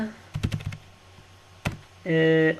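Typing on a computer keyboard: a quick burst of close key clicks, a lone keystroke a moment later, then a short electronic beep tone.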